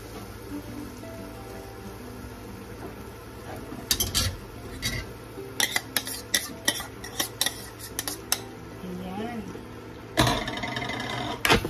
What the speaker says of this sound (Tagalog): Halu-haluin natin ng ganito lang mga langga.